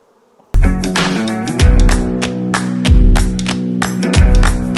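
Honeybees buzzing around an open hive at an apiary, a loud, close, continuous droning hum that begins abruptly after a moment of near silence and wavers in pitch as insects pass the microphone.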